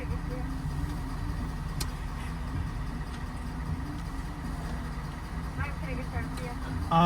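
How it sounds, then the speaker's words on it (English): A loud Chevrolet Blazer engine hums steadily at close range, a constant low drone filling the cabin with little variation. "Engine's too loud."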